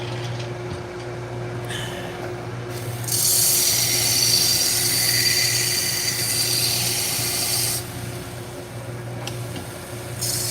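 A belt knife sharpening machine runs with a steady motor hum, and a loud, hissing grind rises for several seconds in the middle as a blade is worked against the cheap abrasive belt, then eases back to the idle drone.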